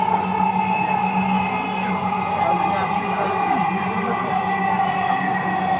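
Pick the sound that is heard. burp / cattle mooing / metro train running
metro train running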